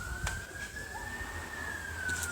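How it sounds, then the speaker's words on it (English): A police siren wails steadily throughout at moderate distance, a single sustained tone sliding slowly up and back down, over faint street background with no talk. "Why have they got this fucking sirens on?"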